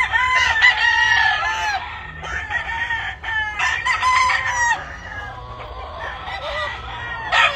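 Gamefowl roosters, including Kelso, Sweater and Albany Grey birds, crow on a farm: loud overlapping cock-a-doodle-doos one after another, close by, with clucking from other fowl between calls and no talk.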